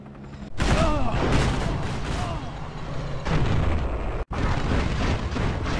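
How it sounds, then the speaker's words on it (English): Explosions from a particle cannon strike in Command and Conquer Generals Zero Hour, dense and loud from start to end, with a sudden brief cutout near the end before the blasts and effects resume. "Particle cannon ready."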